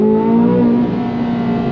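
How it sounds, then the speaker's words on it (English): Chevrolet Corvette C8 Z06 engine revving in track mode, a loud, sustained high-pitched engine note heard close for under two seconds, settling slightly toward the end with no talk. "it's just a different style of engine that needs to be wound up higher to make that kind of torque"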